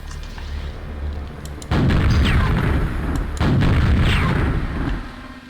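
Two loud, close rocket explosions boom in a Quake mod video game, each a sudden heavy blast with a long rumbling tail, the second following a couple of seconds after the first.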